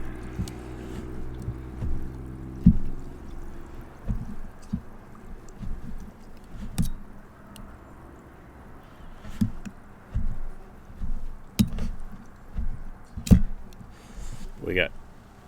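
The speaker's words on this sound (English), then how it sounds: "I'm just going to muddle the crap out of this" Blueberries and rum are muddled in a cocktail shaker with repeated dull thumps and grinding knocks in an irregular rhythm, close and moderately loud, with a person talking now and then.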